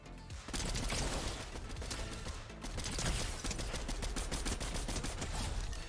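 Bursts of MK Alpha assault rifle fire in Fortnite, rapid automatic shots in sustained volleys with brief pauses, loud and close, no talking.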